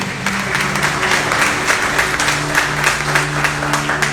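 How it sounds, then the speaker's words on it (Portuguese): Church congregation applauding the Lord Jesus Christ during a Pentecostal worship service, a steady wash of many hands clapping at fairly close range with a sustained musical drone or keyboard tone underneath. "Pode aplaudir o Senhor Jesus Cristo."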